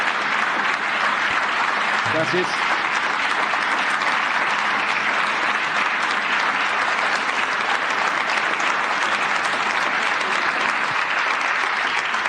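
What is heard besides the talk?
audience applause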